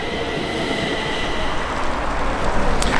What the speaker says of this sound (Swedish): Och titta här kommer ju Blå tåget.